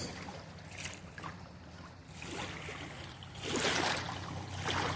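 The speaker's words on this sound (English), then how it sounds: "all right, all the boats have passed" Boat wake washes past a kayak on the Ashley River, a soft rushing of water with wind noise that swells louder toward the end.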